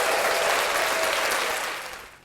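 Audience applause filling a room, dense steady clapping from many hands that holds loud and then tapers slightly at the end, no voices.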